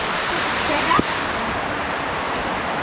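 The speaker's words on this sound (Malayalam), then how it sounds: "മഴ തകർത്ത് പെയ്തുകൊണ്ടിരിക്കുകയാണ്." Heavy rain pours steadily at a large granite quarry pool on a hillside, a dense, loud, continuous hiss with a brief splash or knock partway through.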